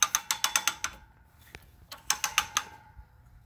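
On a disc harrow, the crank that raises and lowers the gangs is turned by hand, giving two quick runs of sharp metallic ratcheting clicks separated by a short pause, heard close and clear without speech.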